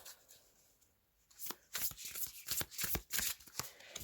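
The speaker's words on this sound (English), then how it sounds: "I felt the need to give it a little shuffle again and to split the deck" A deck of tarot cards being shuffled close by, a short burst of riffling, flapping card noise that starts after a quiet pause and runs in quick rustling strokes, with no talking over it.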